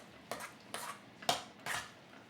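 Chicken salad with Greek yogurt being mixed in a bowl, heard as four distinct clinks and scrapes of a utensil against the dish spaced about half a second apart, close and fairly quiet with no talk.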